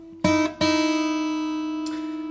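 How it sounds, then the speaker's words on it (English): Two plucked guitar notes ring together with a slightly sour, beating harmonic clash, sustaining steadily before a soft scrape near the end. "Don't play these two notes together"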